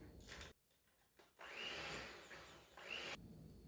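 Electric mixer whipping a cream cheese dip at medium speed, a close whirring motor that runs in a short burst, stops briefly, then restarts for a longer steady whine with a slight rise, no talking over it.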